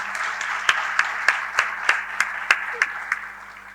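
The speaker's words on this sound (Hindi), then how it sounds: "एक बार जोरदार तालियां इन सभी वॉरियर्स के लिए।" At a Corona Warriors honour and volunteer award ceremony, a crowd claps in unison with about a dozen sharp, evenly spaced beats over a soft applause bed and a low electrical hum, fading toward the end.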